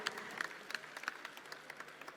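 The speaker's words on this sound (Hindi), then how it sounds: "जोरदार तालियां" Audience clapping at a stage event honouring office bearers of a foundation during a Ramayana show, a brief, fairly distant burst of scattered applause from a modest crowd.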